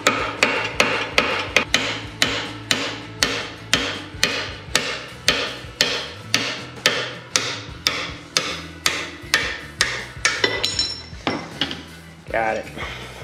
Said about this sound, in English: Just need a bigger hammer